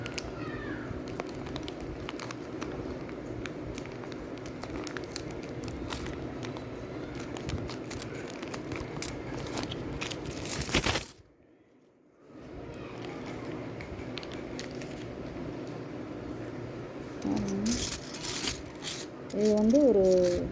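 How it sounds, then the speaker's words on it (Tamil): Indian 2025 Hyderabad Mint 75th Independence commemorative coins pour out of an opened packet, a continuous metallic clinking and rattling with a short silent gap partway and a few brighter chinks near the end. "காயினை ஓப்பன் பண்ணி நான் பேக்கெட்டை பிரித்து கொட்டுறேன் பாருங்கள்."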